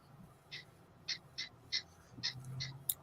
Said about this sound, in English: she loves your guinea hens. She hears them chirping.